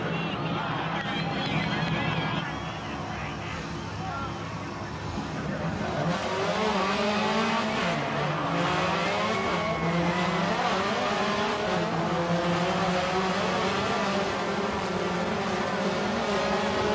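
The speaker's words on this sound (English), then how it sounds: "Travis Pastrana, moments away from flying a car." Travis Pastrana's rally car revs and accelerates hard toward a world record ramp jump, its engine note climbing and sweeping in rising, loud waves while crowd noise and a voice carry underneath.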